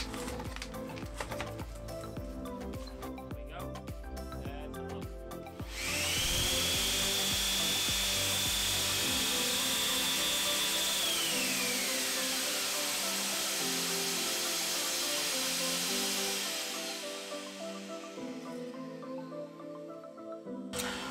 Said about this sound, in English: As I've switched on the power on the sander, the vacuum came on automatically straight away, no delays.